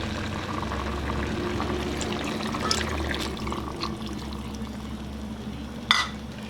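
A cup of water pours into a cooking pot holding cassava, a soft steady splashing stream lasting several seconds, followed by a brief clink near the end.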